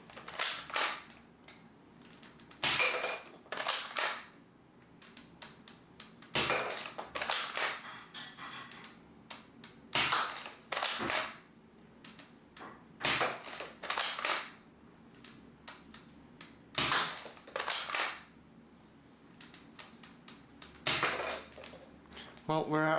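Nerf Maverick Rev-6 blaster firing long foam darts: a regular series of sharp mechanical snaps and plunger thumps, each followed by a cylinder-turning creak, repeating about every second or two, close and moderately loud.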